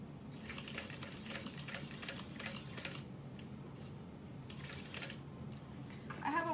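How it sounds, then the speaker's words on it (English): Faint, rapid mechanical stitching in short bursts with pauses between, a quiet rattling walking foot sewing machine run nearby. "I have a walking foot sewing machine which has a really rough bottomed foot"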